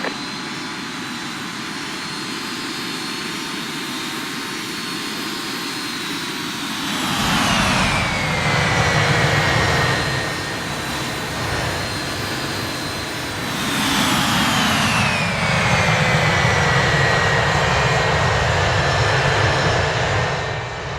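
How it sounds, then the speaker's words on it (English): Fixed-wing jet aircraft in a military video game roar overhead, two loud passes with a rising then falling whoosh, each swelling and fading over a steady background rumble. "That's a plane."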